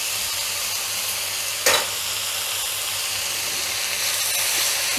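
Maggi masala being stirred into paneer vegetable Maggi noodles in a pan, a steady close sizzle and scraping stir with one sharp clatter of the spoon partway through, no voices.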